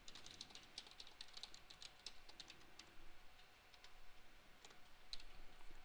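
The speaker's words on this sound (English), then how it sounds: "I'll just type something in real quick." Light, quiet tapping on a computer keyboard forms uneven bursts of soft clicks while text is entered into a web page section editor, heard alone at close range with a faint background hiss.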